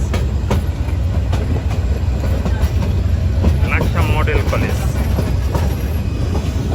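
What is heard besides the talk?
passenger train running on rails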